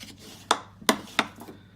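Paper card stock being folded into a pop-up gift card holder, giving three or four crisp, quick creases and taps close by with quiet rustling between them.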